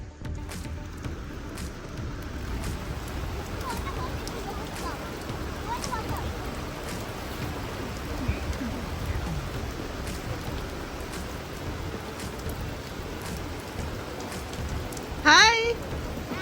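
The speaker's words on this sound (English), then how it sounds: "It's raining." Steady rain falls on a balcony during a trip from Colombo to Bentota, a continuous wash of drops with a brief louder burst near the end and scattered voices in the background.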